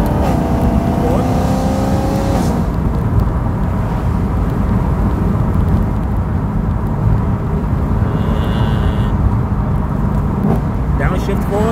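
A BMW M3 E9x with an aftermarket exhaust drones loudly and steadily from inside the car, with rising engine pitch sweeps at a couple of gear changes near the start and end; someone talks over it.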